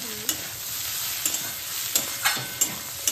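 Green chillies are stirred into masala frying in a pan, producing a continuous sizzle punctuated by several sharp scrapes and clinks of the spoon, roughly one every half second to second, with no voices.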